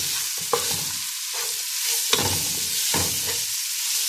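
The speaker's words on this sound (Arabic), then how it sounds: "هنروح نازلين بالجزر المبشور اللي هيطعم لنا الرز بتاعنا" Grated carrot stir-fried with fragrant spices for basmati rice hisses loudly up close, pulsing with several distinct scraping tosses of a spoon through the pan, no one speaking.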